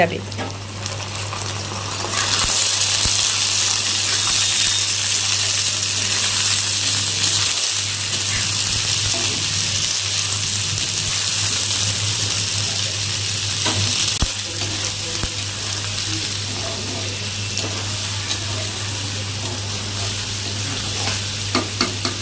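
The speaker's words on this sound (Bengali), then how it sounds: "এখন এর মধ্যে দিয়ে দেবো ছোলাগুলো তাহলে ছোলাগুলো ভাজা হয়ে" Loud, continuous sizzling of taro and chickpeas frying in oil, close up, with occasional stirring scrapes and a steady low hum underneath.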